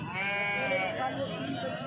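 Sheep at a village goat farm market bleat loudly and close by, a long wavering cry followed by further calls, with people talking over and around them.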